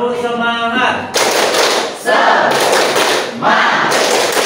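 A group does a rhythmic spirit clap in a classroom, three loud bursts of clapping in quick succession with shouting voices in between.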